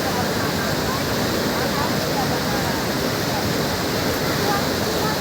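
Dhuandhar waterfall on the Narmada river roars as a steady, dense wash of falling water, loud and continuous from start to finish with no pauses.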